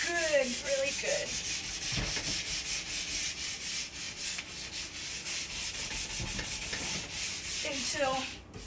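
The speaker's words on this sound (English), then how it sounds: "get a metal brush and really just get all that excess wax that the scraper didn't get off, and brush this good" A metal brush scrubs excess wax off a ski in fast, rhythmic back-and-forth strokes, making a close, continuous raspy rubbing with brief pauses.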